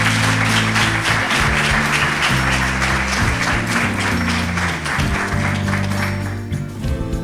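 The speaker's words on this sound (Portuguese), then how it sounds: "Uma salva de palmas para a Ana." Audience applause at a Women's Day gala in Lajes rolls on under loud, rhythmic music with a pounding bass line, the clapping blending into the mix throughout.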